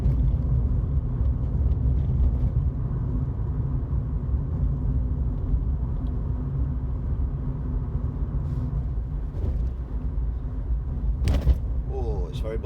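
A car rolls along a bumpy road at night in Manchester, heading toward the Etihad, with a steady low road rumble throughout and a few brief knocks and thumps near the end. Someone talks over the noise.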